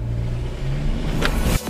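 A Jeep Compass Trailhawk accelerating through shallow mud, its engine drone rising steadily for over a second before a sharp splash or thud near the end, close and loud.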